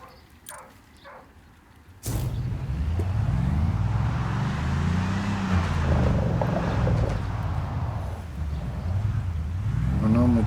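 In the Construction Simulator game, a vehicle kicks into a loud, steady engine drone after a quiet start. Its pitch rises and falls in smooth sweeps as it drives on without a break.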